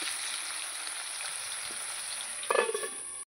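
Salted potatoes fry in a pan with a steady, close hiss, and a brief rattle of stirring comes near the end before the sound cuts off.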